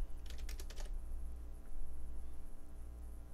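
Quick bursts of keystrokes on a computer keyboard in the first second, then a steady low hum from the computer setup with no more typing.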